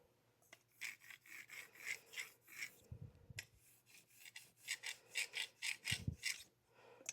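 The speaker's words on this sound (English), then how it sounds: "Really not liking the sound of the razor going over the corner." A straight razor edge is drawn back and forth over an Ardennes sharpening stone in repeated rasping strokes, each a short scraping swish in a steady rhythm, close and clear, with a couple of duller knocks as the blade is turned.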